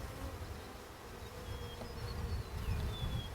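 Mountain Grey Caucasian honeybees buzz steadily from an open hive during an inspection, a close, continuous drone swelling slightly louder toward the end with no talking.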